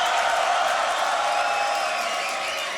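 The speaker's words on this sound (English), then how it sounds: "Crowd goes crazy." A dense, loud crowd roars and cheers without a break at the Grand Beatbox Battle 2019, a sustained wash of voices from a large audience.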